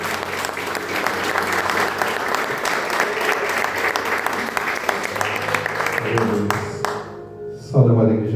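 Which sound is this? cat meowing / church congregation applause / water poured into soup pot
church congregation applause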